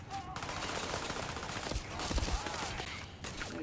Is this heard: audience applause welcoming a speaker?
no